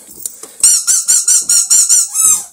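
A dog squeezes a squeaky rubber tyre toy, sending out a rapid run of about eight loud, close, high squeaks in quick rhythm after a few soft rustles.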